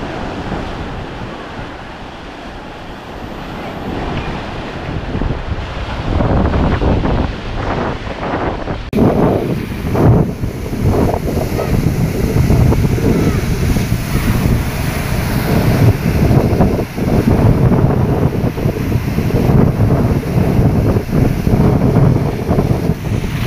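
Large ocean waves surging over seaside steps where a child sits, heavy continuous roaring wash with wind buffeting the microphone, building louder after the first few seconds.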